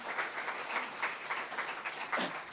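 Congregation applauding for God during a church sermon, a short burst of fairly soft, moderately distant clapping.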